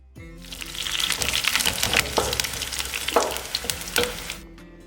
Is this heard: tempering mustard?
yes